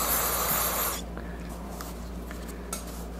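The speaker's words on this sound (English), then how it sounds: "Let's spray that real fast." A short hissing spray for about a second onto a Honda Shadow 750 motorcycle carburetor, then quiet with faint small clicks and handling noises.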